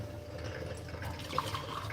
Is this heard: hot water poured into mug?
yes